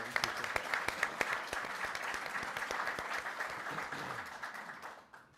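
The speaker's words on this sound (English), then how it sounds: "I'm going to ask for the audience to give a round of applause to the Congressman." An audience claps for a congressman at an event. The dense, steady applause fills the room and fades out over a few seconds.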